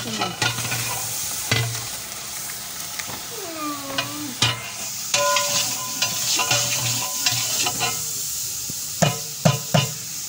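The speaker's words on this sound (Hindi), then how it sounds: "मैं अब अदरक और लहसुन की पेस्ट डाल रहा हूँ" Ginger-garlic paste frying in a pot for beef qorma, with a steady sizzle under repeated scraping and clanking of a spoon stirring against the metal, close and continuous.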